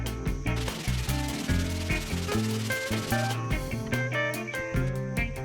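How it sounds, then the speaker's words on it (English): Wooden desk pieces are sanded by hand in quick, rhythmic back-and-forth rasping strokes, close and steady, with brief pauses between passes and no voices. "I opted to sand each piece by hand."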